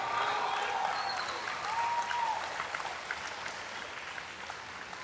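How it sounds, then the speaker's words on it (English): An audience claps in a sustained round of applause, dense and steady at first, then gradually thinning and softening, with faint whoops over it. "y'all give him a round of applause"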